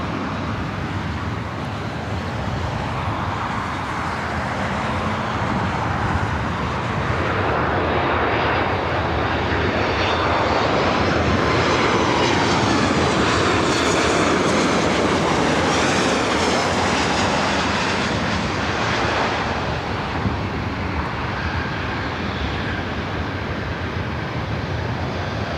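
An airliner arriving from Phoenix at LAX produces a long, loud, continuous jet roar that swells toward the middle as it passes close by and then gradually eases.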